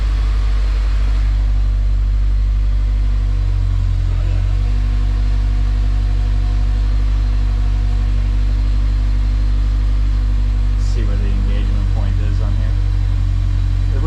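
A car's engine idles steadily with a low, even drone while it is put into gear with a worn, slipping clutch, and a brief rising sound near the end. Voices are heard.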